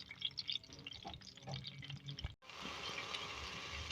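A glass of water is poured into a pan of egg gravy, where boiled eggs were fried in oil until the oil rose, giving a splashing pour followed by a dense, continuous sizzle and bubbling.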